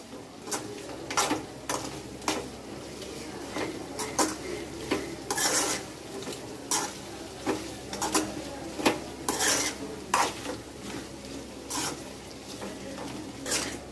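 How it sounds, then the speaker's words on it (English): A utensil scrapes and stirs deep-fried chicken in a pan for chicken pickle, repeated strokes with clinks against the metal and a faint sizzle underneath. "Now mix the chicken into the mixture very well."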